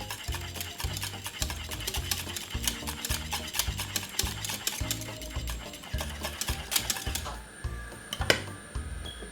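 Cornmeal porridge with mixed spices is stirred in a pot with a spoon, making a rapid, rhythmic scraping and knocking close by that carries on steadily and eases off near the end.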